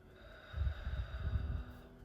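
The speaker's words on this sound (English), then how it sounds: "Take a deep breath in and out." A slow, deep breath in and out during a gentle calming routine, soft and close, two airy swells rising over a faint steady hum.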